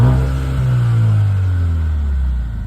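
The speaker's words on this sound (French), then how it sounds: "On va vous faire écouter le moteur," A Mercedes CLA 35 AMG engine revs loudly up close, a deep rising rumble that swells, holds briefly and eases off over a few seconds.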